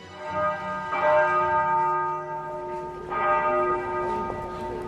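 Church bells ring in two loud, resonant strikes about two seconds apart, their long metallic hum lingering and overlapping, with no voices.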